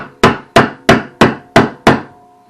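Six sharp, evenly spaced knocks ring out as a wooden handle is tapped into the head of a Craftsman hammer during a restoration. Each strike is close and crisp, with a short decay.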